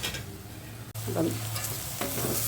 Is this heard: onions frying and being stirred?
yes